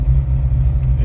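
A car with a 408 Cleveland engine idles steadily up close, a loud low rumble with an even, slightly lumpy pulse and no voices.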